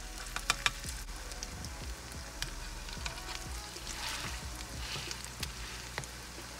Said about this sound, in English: That means that your oil is ready, and you can go ahead and lay your patties down